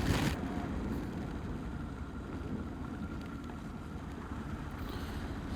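Heavy monsoon rain while driving on a highway, a dense, steady roar of rain and road noise from inside the moving car, loud and unbroken, with no talking.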